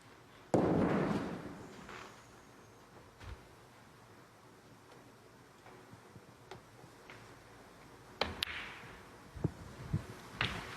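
Snooker balls click together in a cannon shot during a Northern Ireland Open 2024 match, several sharp, isolated knocks and taps spaced across a quiet arena, with a soft crowd murmur beneath.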